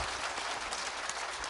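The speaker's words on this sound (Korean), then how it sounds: "여러분 큰 박수 한번 부탁드리겠습니다." Steady applause from an audience at a panel debate on improving apartment-complex management culture, a dense, even patter of clapping that holds for a moment on its own with no talk over it.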